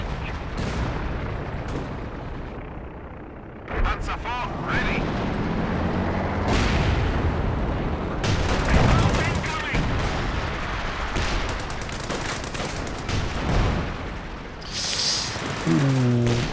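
Howitzer artillery in Company of Heroes 2 fires near maximum range, heavy booming shots and explosions repeating through a busy battle soundscape with rumbling impacts, some close and loud, others distant.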